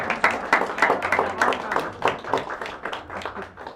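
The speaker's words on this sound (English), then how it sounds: "why don't you raise your hand so we can give you all a round of applause" A small gathering at an arts center's tenth anniversary reception gives volunteers and staff a round of applause, sparse, distinct claps in an uneven rhythm, fairly close and moderately loud.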